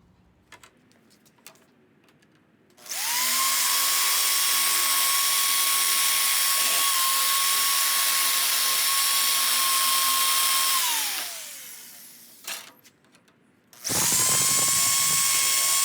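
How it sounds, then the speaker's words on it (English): Electric shear slicing through Datsun rear floor sheet metal, a loud sustained whining motor tone lasting about eight seconds that drops off, then starts again after a short pause of scattered clicks. "I cut it out with my shear, my electric shear"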